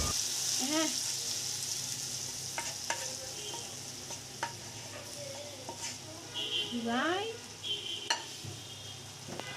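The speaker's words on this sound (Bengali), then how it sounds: "পেঁয়াজ কুচি রসুন কুচি হালকা বাদামি কালার হয়ে আসলে আমরা সেটা সবজির মধ্যে ঢেলে দিব" Browned chopped onion and garlic hit mixed vegetables in a pan, a steady low sizzle with occasional stirring scrapes and clinks running through the whole stretch, fairly quiet and without talk.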